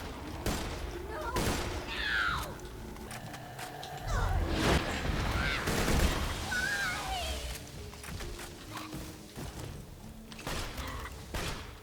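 Gunshots fired at a pixie in a forest area of a video game, several sharp bursts scattered through the stretch over music, whooshes and game effects.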